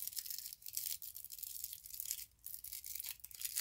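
Paper scrunched and folded by hand for Valentine craft embellishments, a continuous close crinkling and rustling with short pauses and no talking.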